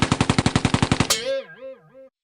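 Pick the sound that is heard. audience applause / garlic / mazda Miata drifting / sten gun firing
sten gun firing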